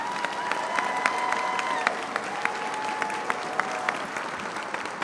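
Audience applause fills a graduation ceremony hall at Fresno campus, honoring officers of a commissioned corps; steady dense clapping with scattered sharper claps, and a faint sustained tone runs underneath.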